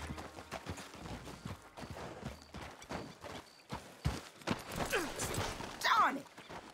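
Hooves of a horse in a video game about stealing cattle clip-clop in a quick running rhythm throughout, fairly close and steady, with game sounds rising toward the end.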